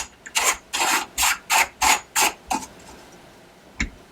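A castle nut is slid down and spun onto an AR-15 receiver extension, making seven rhythmic, close rasping turns of metal threads followed by a single small click.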